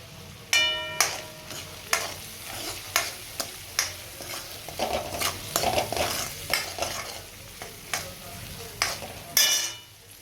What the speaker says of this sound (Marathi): यामध्ये मीठ टाकले जेणेकरून ते लवकर कांदा परतला जाईल